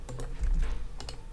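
Quick clicks of typing on a computer keyboard, a short run of light keystrokes close by and fairly soft, with no talking.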